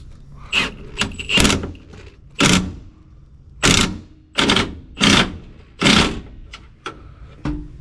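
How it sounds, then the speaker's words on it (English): An impact gun tightens a bolt during a carrier bearing replacement on an International 4900 truck, turned all the way up, firing about seven loud, close hammering bursts separated by short pauses. "Just go till it shears the bolt off and you know it's tight enough."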